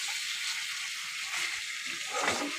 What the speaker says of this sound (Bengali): হচ্ছে সয়াবিন ভাজা